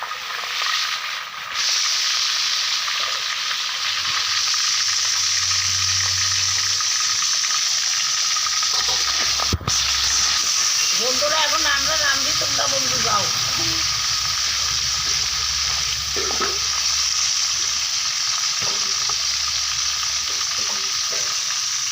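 Fish head coated with salt and turmeric frying in hot oil, giving a loud, continuous close sizzle and hiss throughout, with a brief clatter midway and faint background voices.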